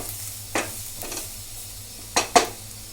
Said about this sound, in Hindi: इसको थोड़ा सा चला देंगे ताकि प्याज और मसाला बहुत अच्छी तरह से मिक्स हो जाए आपस में।